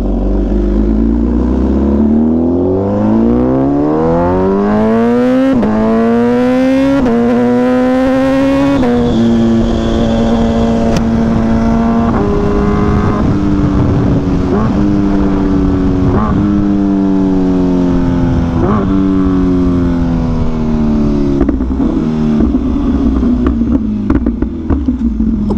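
An MV Agusta motorcycle exhaust revs hard and loud nearby, its pitch sweeping up repeatedly through rising bursts and falling back, with crackles and pops on the overrun toward the end.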